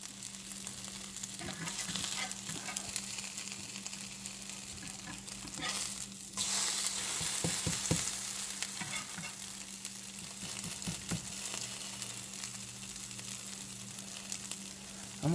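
Something sizzles steadily in a hot pan for a meatless casserole, with occasional stirring and clatter scattered through, moderately loud and close, and no one speaking.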